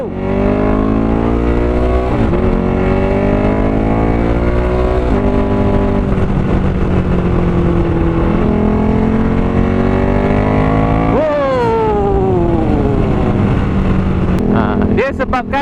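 A Ducati Streetfighter 1100 S motorcycle, a 2009–2012 model with a detuned engine, drones loudly and continuously on a test ride, its pitch rising and falling through revs and gear changes.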